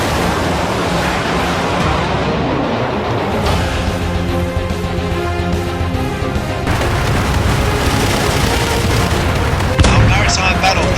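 Missile explosions and gunfire in an animated sci-fi naval battle involving a maritime battle force and fleet under heavy fire, a loud continuous roar of booms and blasts with a sharp burst near the end.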